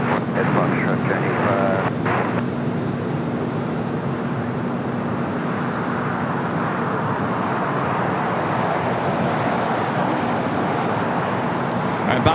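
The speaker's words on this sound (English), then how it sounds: "We got that Atlas Air Queen going to be taking off here on the south side." An Atlas Air Boeing 747 powers up for takeoff on the south side at LAX, a dense steady roar of jet engines with a voice talking over the start.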